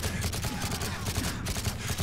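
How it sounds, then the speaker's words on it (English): A suppressed AK rifle fires in Call of Duty MW3, a rapid, steady stream of muffled shots running continuously for about two seconds over dense battle ambience. "It doesn't sound this cool online when you suppress an AK."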